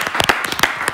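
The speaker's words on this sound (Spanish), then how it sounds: "Fuerte el aplauso para Majo." In a television bar-style debate studio, a few people clap briefly, with sharp, distinct hand claps for under a second and no voices.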